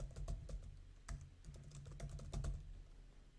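Fingers tap a computer keyboard in quick, uneven bursts of clicks, with brief pauses and a few harder keystrokes between runs, close and fairly quiet with no talk.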